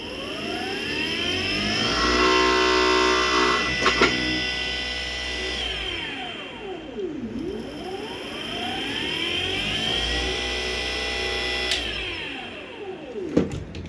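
An e-rickshaw's electric motor runs freshly after a controller repair that replaced a faulty MOSFET, giving a steady close whine whose pitch repeatedly sweeps down and back up as speed changes, with a few sharp clicks and no talking.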